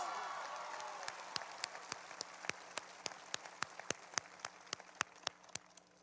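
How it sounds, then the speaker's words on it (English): Faint applause from a distant audience at a high school graduation, heard as sparse, scattered claps rather than a full ovation. "Let's give him a round of applause."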